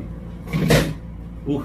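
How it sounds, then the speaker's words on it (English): A single dull metal-on-metal clunk sounds as the brake of a sewing machine is pressed, brief and close, with a softer knock just after it. "That's me just pressing on a brake, and it's just a metal and metal thing down here."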